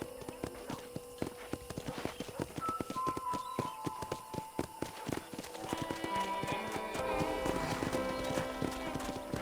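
Horse hooves clip-clopping in a steady trotting rhythm in Red Dead Redemption, close and clear, with soft game-like background tones building toward the end.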